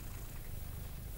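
A cat purrs steadily and close up, a soft continuous rumble with an even rhythm and no voices over it.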